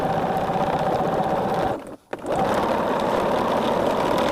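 A sewing machine stitches quilt blocks in a fast, steady, close-up whirring chatter, stopping briefly halfway before running on again.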